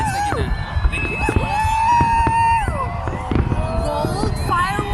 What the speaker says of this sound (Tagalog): Gold yung fireworks na yan.